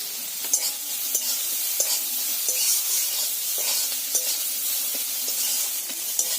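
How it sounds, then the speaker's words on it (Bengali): About three chopped onions with a little salt frying and being stirred in a pan, a steady close sizzle broken by regular scraping strokes of the spoon. "দেখো পেঁয়াজটা নেড়ে করে ভেজে নিয়েছি"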